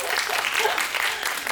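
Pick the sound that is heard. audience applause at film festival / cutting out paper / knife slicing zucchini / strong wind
audience applause at film festival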